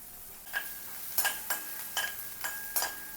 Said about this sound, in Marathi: कांदा थोडा परतून घ्यायचा.